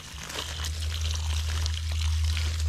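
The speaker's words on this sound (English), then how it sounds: "to hold the hose and give the stuff some water" Water pours from a garden hose onto plants during weeding in a garden, a steady continuous splashing stream close by with a low rumble underneath.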